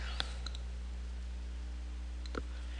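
A computer mouse gives two faint, quick clicks about two seconds apart over a quiet, steady hum.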